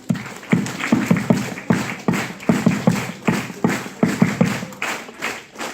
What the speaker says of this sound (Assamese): তালি এটা মাৰি দিয়ক ন' প্ৰব্লেম